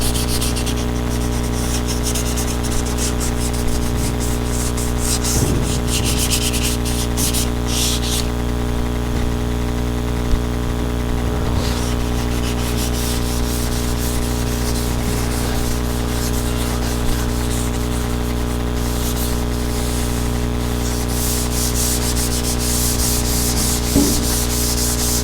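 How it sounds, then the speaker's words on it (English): Continuous dry scraping of 320-grit sandpaper scuffing the body edges of a Dodge Dart project car, steady and close with bursts of harsher hiss, over a constant low hum, with no talking. "I'm hoping I can get all these edges scuffed up. And get onto the wet sand today."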